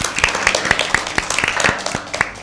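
A small group claps in quick, fairly regular bursts at a Lent season Bible quiz, cheering a team's correct answer. The claps are crisp and close, with a faint voice murmuring underneath.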